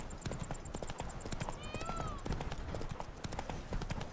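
Roach, the horse in The Witcher 3, clip-clops steadily along, hooves striking in a quick regular rhythm up close, with a brief snort or whinny partway through and a voice talking quietly in the background.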